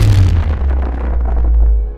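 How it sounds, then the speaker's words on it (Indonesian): A small explosion in an audio drama, a single booming blast with a deep low rumble that decays over about two seconds, loud and close, with no voices. "Ledakan kecil mengguncang seluruh permukaan."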